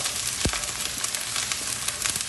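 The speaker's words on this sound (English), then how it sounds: "green hot peppers, ginger, and garlic, 1 tablespoon of each, and stir fry for" Green hot peppers, ginger and garlic stir-frying in a pan for Chole Bhature, a steady close sizzle with a low knock or two from stirring near the start.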